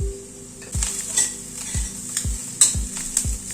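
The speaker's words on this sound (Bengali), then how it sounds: "সব দিয়ে গুঁড়ো মশলাটা দিয়ে আবার একটু মশলার সাথে একটু নাড়াচাড়া করে নেব" Okra tossed with ground spices, salt, turmeric and Kashmiri red chili powder in a pan, with repeated spoon scrapes about every half second over a low steady sizzle, close and clear with no talking.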